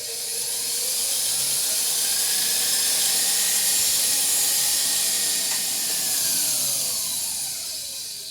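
Electric stand mixer whisking butter with dark brown sugar, a steady loud whirring hiss with a gently rising and falling motor tone, running alone without pauses.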